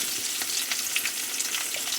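Steady, close sizzling and crackling of onions sautéing in a hot pan with turmeric, with occasional small pops and no voices.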